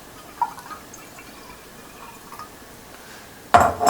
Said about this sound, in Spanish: Lleno la cafetera de agua.